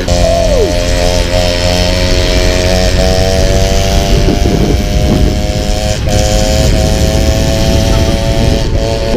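Peugeot 103 moped with its two-stroke engine held at high revs, a loud steady buzzing whine that holds close and constant throughout, with a brief rise in pitch at the start.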